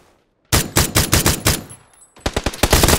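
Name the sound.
gunfire from above in a video game shooter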